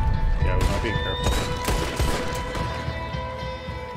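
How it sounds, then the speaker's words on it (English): Overlapping gunshots crackle through the Western setting of Red Dead Online, mixed with game ambience and a talking voice, loud and busy from start to finish. "I'm getting shot to shit"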